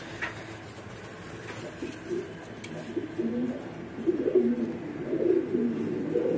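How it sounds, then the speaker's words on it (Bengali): Black Lahore pigeons, imported birds, cooing in a loft, a low murmuring coo that swells and repeats through the second half over a steady background hum. "তো আপুর যেই লাহোর গুলো দেখতে পারতেছেন কালো, এগুলো সব ইম্পোর্টেড কবুতর"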